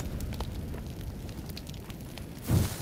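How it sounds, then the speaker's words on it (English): A grenade blast in PUBG: Battlegrounds, a single muffled low boom near the end, following a stretch of rumbling game ambience and faint background noise. "Throw a grenade right in front of you."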